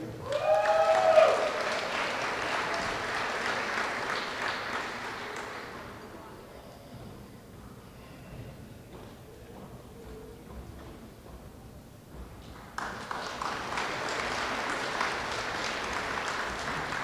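Applause at an elementary school awards assembly for fourth grade students, a sustained burst that fades to near quiet midway, then a second round of clapping starts abruptly.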